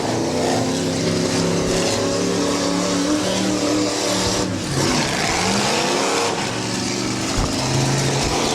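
A demolition derby car at a county derby revs hard and fires up, its engine roaring loudly with rising and falling pitch sweeps amid crowd and arena noise.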